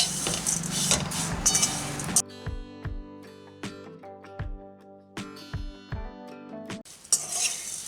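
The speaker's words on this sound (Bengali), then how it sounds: "এখন আমি 2 মিনিট মতো এটাকে অল্প আঁচে এইভাবে নাড়তে থাকবো" Sweet flattened rice stirred in a pan over low heat: a spatula strikes the metal pan in a series of ringing, irregular knocks and scrapes, with a soft sizzle at the start and end.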